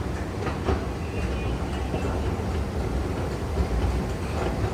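Subway train at the Whitehall Street terminal in New York, a continuous loud rumble of wheels on rails with faint clicking and rattling, no voices.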